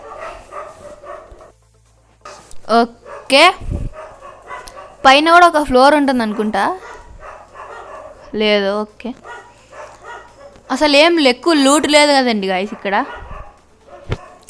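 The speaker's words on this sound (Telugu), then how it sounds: "కుక్క అరుస్తున్న శబ్దం అయితే వస్తుంది" A dog barks outside in a few short bursts, heard under someone talking close by in a quiet room.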